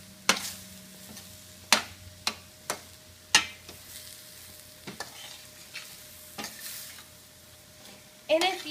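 A spoon stirs cauliflower rice stuffing in a pan, sending out a series of sharp, distinct clinks and scrapes against the metal at irregular intervals over a faint, quiet background.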